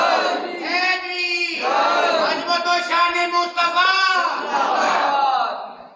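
A crowd at a religious gathering answers the Takbir slogan in loud, sustained unison chanting, with a leading voice in the mix and a bit of clapping.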